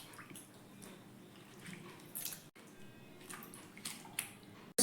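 Soaked potato pieces are dropped into a bowl of alum water, giving a run of soft wet drips, splashes and squishy plops at close range over a quiet kitchen background.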